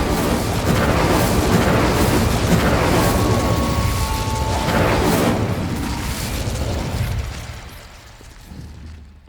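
Incendio fire spell cast in Hogwarts Legacy, a loud roaring whoosh of flame with booming bursts that swell and fade, trailing off to a quieter rumble.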